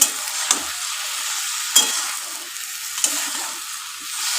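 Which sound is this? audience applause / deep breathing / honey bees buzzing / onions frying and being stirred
onions frying and being stirred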